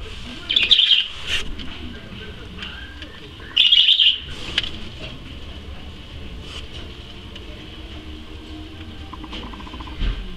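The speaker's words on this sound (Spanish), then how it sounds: "Lechuza de los arenales." A burrowing owl chick calls in two short, shrill, raspy bursts a few seconds apart, close and fairly loud over quiet indoor background, followed by stillness.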